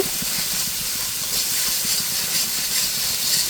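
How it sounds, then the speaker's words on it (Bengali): Ground cumin, coriander and salt sautéed in a pan for a kochu loti and loitta fish curry: a steady, close sizzling hiss throughout with faint clinks and stirring rattles beneath. "গুঁড়া মশলাটা তুলে নিয়েছি এখন আমি সুন্দর করে কষিয়ে নেব"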